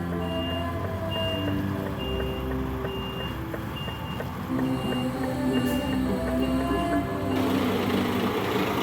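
A truck backs slowly under a trailer, its reversing alarm beeping at an even, repeating rhythm over the low rumble of the idling engine.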